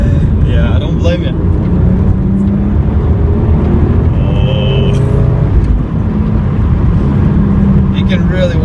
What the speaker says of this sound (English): No, I hear the turbos spooling.